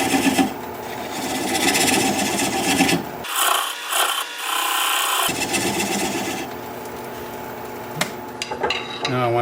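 A gouge cuts into a spinning piece of plum wood on a lathe, giving a continuous scraping, rasping hiss with a few sharper knocks, heard close and loud throughout with no talking.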